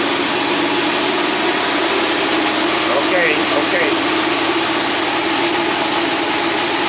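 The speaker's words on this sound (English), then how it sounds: "Okay, let's put a load on this thing and see what it'll do." Holley four-barrel 520 CFM carbureted engine running under load on a dynamometer, a loud steady broadband roar that fills the whole stretch, with a brief spoken word near the start.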